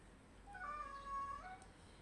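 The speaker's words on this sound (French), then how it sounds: "Ah, le chat." A cat meows once in a drawn-out, rising-and-falling call, quiet and somewhat distant against a faint background hush.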